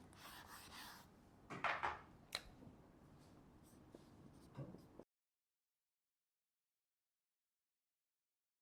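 Pen scratching on paper in short strokes and scribbles for about five seconds, close and soft, with a few taps, then sudden silence.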